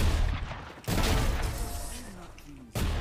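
Gunfire in Valorant comes as three dense bursts of rapid shots, loud and close. A voice talks briefly in the quieter gap between the bursts.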